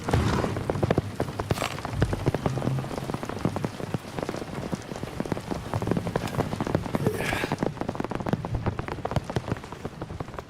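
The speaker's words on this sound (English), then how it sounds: "Oh, the little pitter-patter of rain." Rain pours continuously in the Silent Hill 2 Remake, a loud, dense patter of drops on hard surfaces with no pauses, close and enveloping, with a possible faint rumble of thunder.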